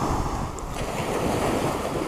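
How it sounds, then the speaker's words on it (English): Waves wash onto a Norfolk beach at Walcott in a continuous, moderately loud roar mixed with wind buffeting the microphone, with no voices. "now the waves are sort of crashing out there"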